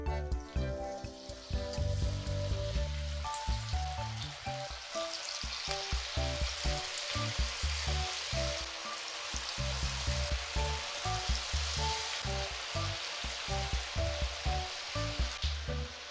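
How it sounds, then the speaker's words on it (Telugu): Cauliflower for gobi 65 deep frying in hot oil, a loud, steady, dense sizzle and bubbling that runs on close up the whole time with no talking. "ఇప్పుడు మనం డీప్ ఫ్రై లాగా చేసేసుకుందాము."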